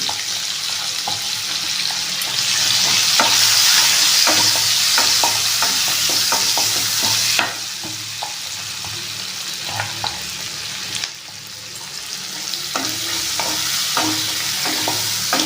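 Onions and tomatoes frying in a pan give a loud, steady sizzle up close, broken by repeated clacks and scrapes of a spoon stirring throughout.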